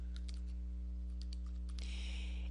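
Keys tap in small scattered bursts on a computer keyboard as text is entered, faint clicks sitting over a steady low electrical hum, with a brief hiss near the end.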